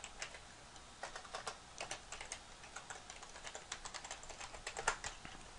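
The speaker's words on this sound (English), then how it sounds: "just type in the name of the map that you're going to do" Keys on a computer keyboard are typed close by in a steady run of soft, rapid clicks with brief pauses, lasting several seconds without any talk.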